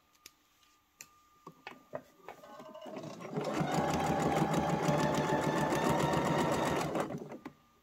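A sewing machine stitches a seam on a fabric scrunchie, running in a steady fast mechanical whir for a few seconds after some light clicks and taps, then stopping.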